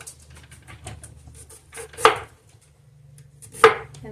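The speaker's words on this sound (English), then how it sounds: "I'm just going to slice up this onion" A knife slices an onion thin: light, quiet taps, then two sharp, distinct cuts about a second and a half apart, close by.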